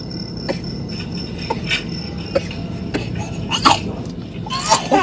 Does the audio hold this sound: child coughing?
yes